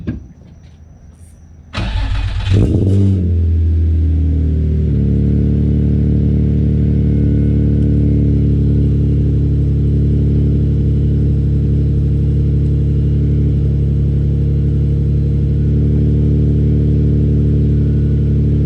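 A car fitted with an ISR Performance single-exit exhaust starts up, then settles into a loud, steady, close engine drone while driving, with no talking.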